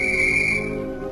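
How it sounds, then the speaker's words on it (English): A police whistle shrills in one steady, loud blast outside a flower shop, holding for about half a second before cutting off, with street ambience continuing underneath. "B9 blew a police whistle outside the flower shop"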